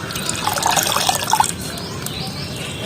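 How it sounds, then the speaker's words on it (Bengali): Water pours off soaked potatoes into a strainer with a close, splashing trickle that fades after about a second and a half, ending in a faint drip. "আলুগুলো একটু জল সরিয়ে নেবো এইভাবে, আর এই চুবির মধ্যে নিয়ে নিচ্ছি সব"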